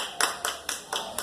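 A congregation at a church service applauds a healing miracle. Five evenly spaced, crisp claps sound together as a rhythmic group clap, moderately near.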